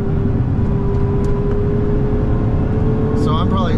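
Lotus Emira V6 manual sports car at full acceleration, a loud, steady engine roar with heavy low rumble and a rising tone, heard from inside, with brief squeaky sounds near the end.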